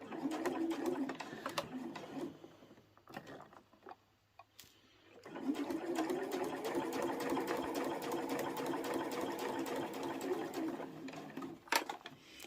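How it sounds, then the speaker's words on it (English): Sewing machine stitching a fabric tray made from layer-cake quilting squares, a steady whirring run that stops briefly midway, then resumes for a long continuous stretch, with faint bird coos in the background. "Leave your needle down when you start to move it around so that you don't lose your stitch line."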